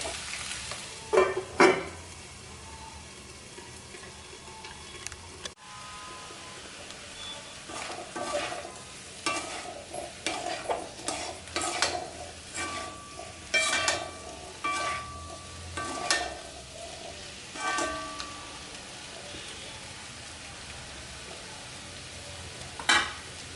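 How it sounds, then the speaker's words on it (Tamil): Potatoes fry in oil for a Chettinad potato fry, with steady close sizzling broken by repeated scraping stir strokes and clinks of a spoon against the pan. "கொஞ்சம் நேரம் நல்லா வறுத்து எடுத்துக்குவோம்"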